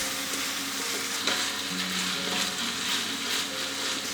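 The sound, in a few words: stirring frying filling with oyster sauce and fish sauce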